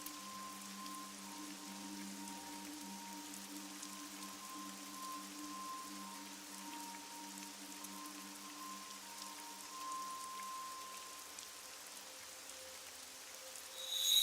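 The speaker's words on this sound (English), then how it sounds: "It's raining." Soft steady rainfall in the video game AI: The Somnium Files, a faint continuous patter with a low tonal hum beneath, growing slightly louder at the very end.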